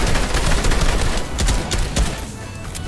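Sprayed automatic gunfire in a Fortnite competitive match, rapid close shots in a steady stream that thins out toward the end, with no talk.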